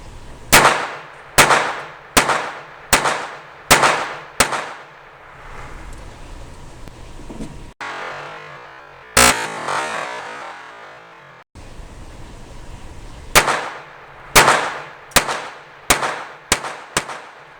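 A Jennings J-22 pistol fires CCI subsonic ammunition in quick, sharp reports: a run of about seven shots, a pause with faint background hiss and one isolated shot, then another rapid string of about seven, all close and loud.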